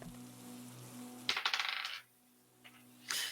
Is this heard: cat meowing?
no